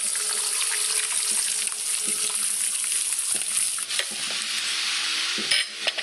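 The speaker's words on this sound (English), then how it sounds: "JW cooked up a meal." A meal fries in a prison escape video game: a continuous sizzling hiss with occasional stirring scrapes and clinks, moderately loud and with no talking.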